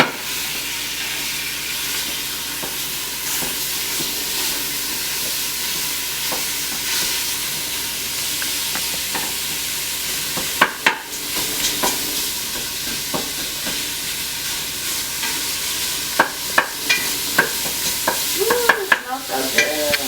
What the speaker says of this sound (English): Just going to brown this up with our garlic, onion, celery, and carrots